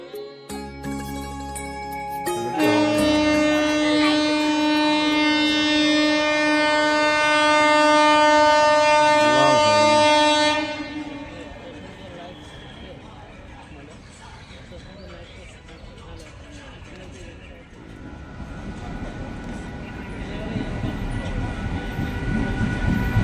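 A passenger train rolls into Kasimbazar station loudly with a long, steady horn blast and rumbling wheels, then slows as the platform noise takes over and voices murmur.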